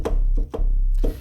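A deep, sustained FM sub-bass from a Yamaha DX7 throbs in a few separate notes, each starting with a brief soft attack.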